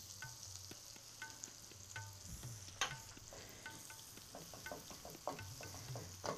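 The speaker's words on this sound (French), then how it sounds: "Nous grillons du blé là comme ça." Wheat toasting in melted butter in a pan gives a soft, steady sizzle, broken by light scraping and stirring clicks at an irregular rhythm, close by and fairly faint.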